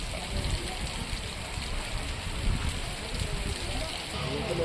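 Heavy rain falls in a steady, dense roar as strong winds blow through a town in Uttar Pradesh, loud and continuous with no pauses.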